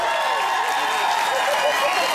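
Concert audience applauding, a dense, loud, continuous wash of clapping and crowd noise from many people, sustained without pause.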